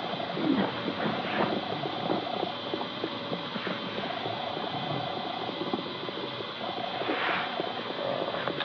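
Outdoor birdsong with doves cooing, soft repeated coos and scattered chirps mixed into a steady ambient wash, moderately distant and continuous without speech.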